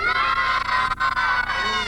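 A crowd of children shouting and cheering together at a birthday party, loud and continuous, with excited high voices blending into a steady roar.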